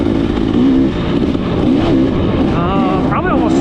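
KTM 300 XC-W two-stroke dirt bike ridden along a trail, its engine droning steadily and close with small shifts in pitch as the throttle varies, someone talking over it throughout.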